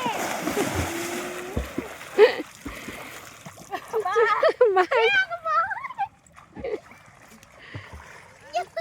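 Someone swimming and splashing in a river, the water sloshing in irregular bursts while voices call out and talk over it.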